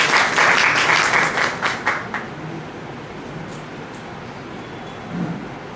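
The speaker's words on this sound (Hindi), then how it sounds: "जोरदार तालियां" A crowd at a literary event claps loudly for about two seconds, then the applause quickly fades into quiet room noise.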